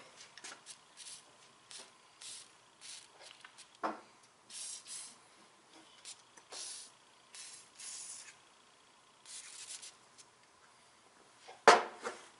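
Short hissing bursts from a silicone lubricant spray can, several quick sprays in a row with pauses between, near and fairly soft, plus a few knocks.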